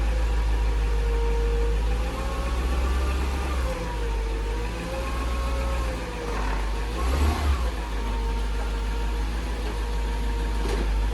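A 1998–2003 Jaguar XJR, XJ8, XKR or XK8 creeps slowly up onto a ramp, its engine humming low and steady with slight rises in revs, close and continuous.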